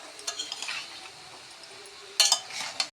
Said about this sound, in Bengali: এটাকে একটু কিছুক্ষণ এভাবে নাড়াচাড়া করে নেব